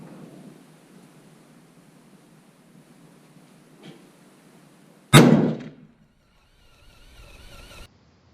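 A WSM rifle fired free recoil from a bench gives a single loud, sharp crack with a quick decaying tail, following quiet background hiss and preceding faint mechanical rustling.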